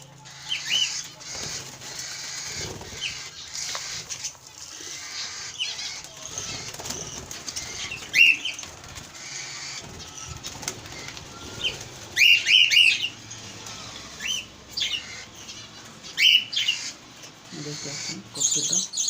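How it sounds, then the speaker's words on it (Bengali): Cockatiels and budgies in a cage give sharp, repeated chirps and short bursts of wing flapping while a person speaks quietly nearby. "দেখতে পাচ্ছেন ককটেলটা।"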